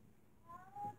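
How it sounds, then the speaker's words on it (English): A house cat gives a short, faint meow at a distance indoors, brief and thin against quiet room noise. "my cat is meowing"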